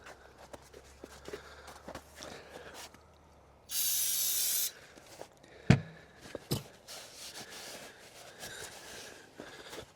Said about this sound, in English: Carburetor cleaner, it's my metal parts cleaner.